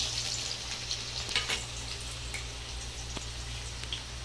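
Soft, steady sizzling of finely chopped onion frying in hot oil, with scattered small crackles and a low hum underneath.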